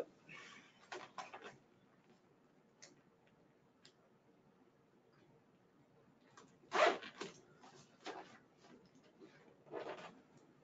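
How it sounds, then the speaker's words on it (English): A zipper is drawn closed on a full-wrap seat cover fitted to a Synthesis positioning seat, giving several short, quiet rasping pulls with pauses between and one louder, sharper zip near the middle, with no talking. "Then zip it up."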